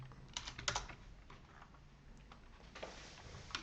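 Quiet computer keyboard typing, a cluster of quick clicking keystrokes followed by scattered lighter taps, close and faint with no talking.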